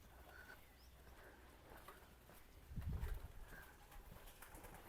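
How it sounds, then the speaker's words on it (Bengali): Pigeons cooing at a house in a tribal village in Purulia, faint soft coos against quiet outdoor background, with one brief louder low rustle partway through. "আর বাড়িতে দেখো কত পায়রা ওই পাশে।"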